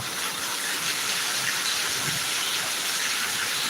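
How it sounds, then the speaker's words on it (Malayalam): Steady, dense hiss of heavy monsoon rain pouring continuously in Thiruvananthapuram, even and loud throughout with no voices. "ഒരു കിടിലം അടിപൊളി മഴ പെയ്യുന്നത് കണ്ട സൂപ്പർ മഴ"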